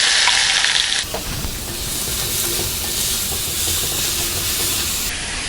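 Onion sizzling in hot oil in an iron kadai after mustard seeds, a steady dense hiss that stays loud and continuous with faint stirring clatter, no voices over it.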